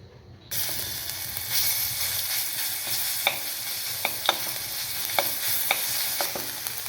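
Ginger and garlic hit hot oil and start a sudden steady sizzle, then a spoon stirs and scrapes the pan with sharp intermittent clacks over the continuous frying hiss, close and moderately loud, with no talking.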